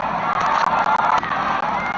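Crowd at a Pakistan versus Bangladesh test match in Rawalpindi cheering in a loud, steady roar for two seconds, close and dense with no distinct voices.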